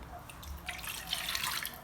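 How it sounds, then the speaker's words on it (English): Water pours steadily into a cooking pot, a soft continuous splashing trickle heard close but quiet, with no talking. "So I'm gonna put my water in."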